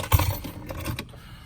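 Car keys for a 2017 Ford F-150 jangle briefly near the microphone, a short metallic rattle that fades quickly with no talk.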